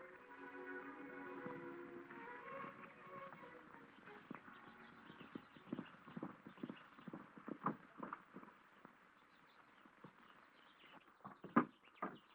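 Horses' hooves clip-clop in an uneven walking rhythm as riders come in on a ranch trail, the steps growing louder and closer near the end after a stretch of quiet talk.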